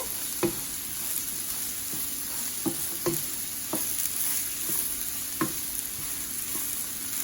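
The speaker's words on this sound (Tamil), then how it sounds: "ஒரு 10 மினிட்ஸ் கத்திரிக்காயை உருளைக்கிழங்கோட அப்படியே நல்லா வதங்க விடுவோம்" Eggplant and potato sautéing in a pan for a Sri Lankan-style poriyal, a low constant sizzle punctuated by regular spatula scrapes and taps about once a second, close and unaccompanied by speech.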